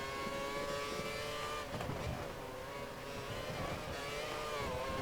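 An F1 car engine from the F1 2013 racing video game screams at high revs during a career race in Spain, a steady whine that dips briefly then climbs again, moderately loud with no speech.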